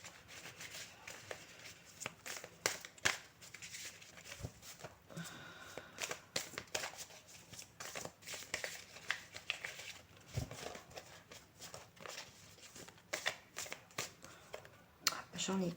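Tarot cards are shuffled and drawn for a love reading, with repeated crisp riffling and slapping bursts close by, under near-continuous talking.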